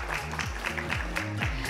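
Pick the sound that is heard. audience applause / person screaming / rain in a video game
audience applause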